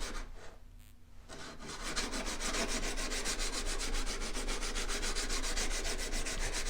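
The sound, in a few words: refining the sides of a Harbor Freight chisel by abrasion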